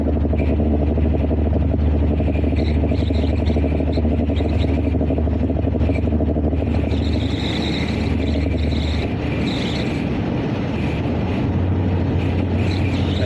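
A truck carrying a canoe on a road near the Colorado River rumbles past, heard as a loud, continuous rolling drone under wind noise that holds throughout before the tone shifts late.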